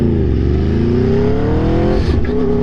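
A 2022 Aprilia Tuono V4 motorcycle's engine roars loud and close, its pitch climbing steadily through a rev with a shift near the end.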